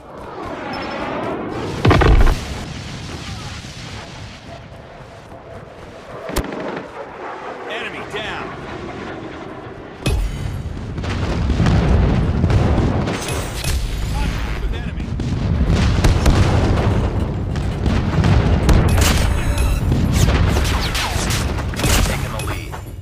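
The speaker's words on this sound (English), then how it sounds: "Napalm deployed." Napalm airstrike explosions in a Call of Duty multiplayer match, with heavy booms and rumbling blasts over a sustained roar of fire and gunfire, along with in-game voice callouts.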